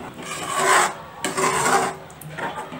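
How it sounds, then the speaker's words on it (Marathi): A spoon scrapes and stirs a thick gram-flour (besan) batter cooking in a pan for kothimbir wadi. It makes three rough, rasping strokes, close and alone. "हे मिश्रण शिजत असताना आपल्याला सतत ढवळत राहायचं आहे"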